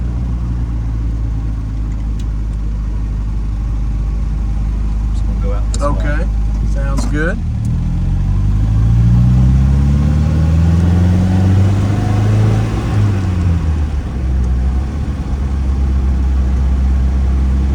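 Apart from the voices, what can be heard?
1960 MGA roadster engine driving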